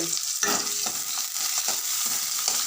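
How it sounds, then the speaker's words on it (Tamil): Onions sautéing in a pan for hotel-style idli sambar give a steady close sizzle with short scraping strokes of a stirring spoon, alone with no voices. "காலைச்சிட்டு வெங்காயம் போட்டு வதக்கும் வெங்காயம் போட்டு வதக்கிட்டு"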